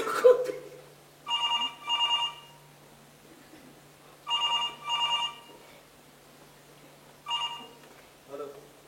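A landline telephone rings in repeated paired bursts with pauses between, clear and indoors, alongside brief talk in a domestic drama scene.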